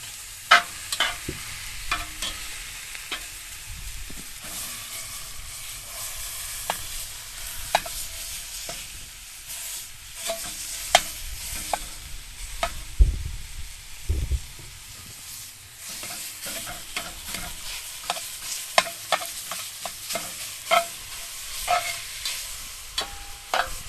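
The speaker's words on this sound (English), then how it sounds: "We're just going to be browning the ground beef right here in the Dutch oven." Ground beef browns in a Dutch oven over a campfire: a steady, close sizzle runs throughout, broken by frequent scrapes and clicks of a utensil stirring the meat, with no talking.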